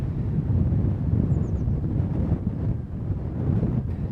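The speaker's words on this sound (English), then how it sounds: "Didn't expect it to be this blowy today." Steady, loud wind buffets the microphone on an exposed hillside of Ventnor Downs on the Isle of Wight, a continuous low roar with gusty swells and no voices.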